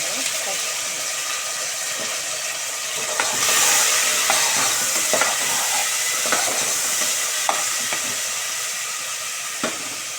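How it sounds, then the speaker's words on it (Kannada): Carrots and onion frying in a pan for pulao give a steady close sizzle that swells for a moment. Scattered clicks of a spoon against the pan run through it, with no clear talking. "ಕ್ಯಾರೆಟ್ ಹಾಕ್ತೀನಿ ಸ್ವಲ್ಪ ಫ್ರೈ ಆದಮೇಲೆ ಈರುಳ್ಳಿ ಹಾಕೊಂಡು"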